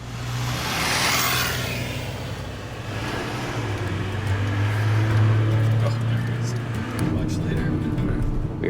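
A car driving along a road behind a van, a steady engine drone and road roar with a low hum that rises slightly, loud and close throughout.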